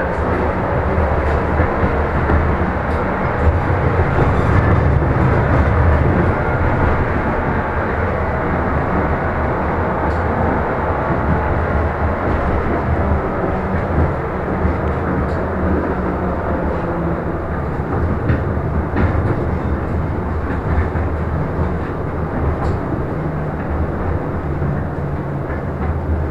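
Continuous low rumble of a Moscow tram pulling away from a stop along rails, steady and loud, with occasional faint clicks and squeaks from the wheels.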